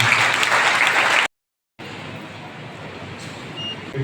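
Congregation clapping hands in worship at a church Christmas celebration, a dense sustained burst of applause that cuts off abruptly, then a quieter, thinner patter of clapping resumes with a faint voice near the end.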